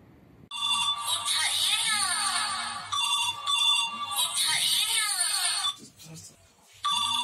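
A phone ringtone plays a repeating melodic tune, loud and close, pausing briefly before starting again.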